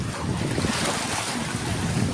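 Steady rush of ocean surf as waves from two sides meet at a sandbar, wind buffeting the microphone, waves washing continuously without any voices.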